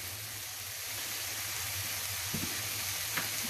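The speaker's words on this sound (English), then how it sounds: "Now, the bacon's frying" Bacon fries in a pan with a continuous soft sizzle and hiss, then a few brief clatters partway through. Nobody speaks.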